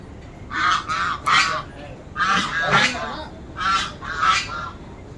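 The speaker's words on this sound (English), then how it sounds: "there are live ducks over here" Live ducks at a village resort quack in loud, nasal bursts, with three clusters of calls close by and brief pauses between them.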